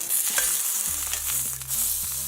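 Salmon fillet sizzles steadily in a hot pan just after being flipped, a loud, close, continuous fry with a few soft clatters of the pan or utensil, no voices.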